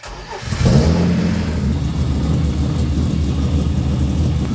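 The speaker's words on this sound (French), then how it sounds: "Pourquoi il galère à démarrer comme ça?" Car engine cranking and catching roughly after a mass air flow sensor swap, a loud continuous low rumble that surges up and then holds an uneven idle throughout.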